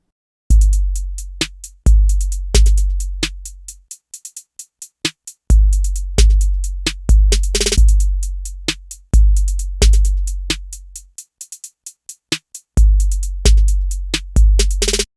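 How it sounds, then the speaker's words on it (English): A trap-style drum loop programmed on the Diode 108 drum machine app for iPad thumps with long booming 808 kicks, sharp snares with flams and effects, and rapid skittering hi-hat rolls in a punchy, loud pattern without vocals. "So I've programmed it with the classical trap style drumming,"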